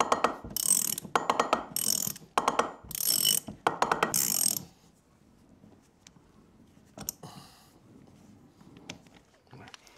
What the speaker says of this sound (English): we're going to use a half-inch drive socket wrench with a 19-millimeter socket